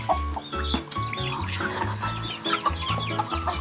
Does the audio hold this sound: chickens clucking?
yes